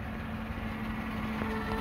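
A 2015 Chevrolet 1500 LTZ pickup truck engine idles after remote start with a low, steady rumble and a constant hum, close by and with no one talking.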